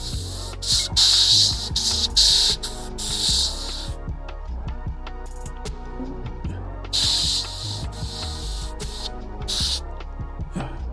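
An airbrush sprays paint onto a skateboard deck in close, tight passes, giving bursts of loud hissing that start and stop over a steady background hum and music, with no talking.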